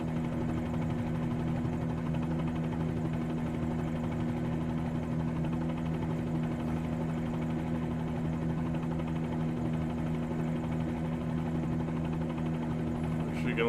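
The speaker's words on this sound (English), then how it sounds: "So we're in a red and white helicopter today." A Bell 47G helicopter engine drones steadily up close, a constant low hum and buzz with a faint rotor throb, unbroken throughout.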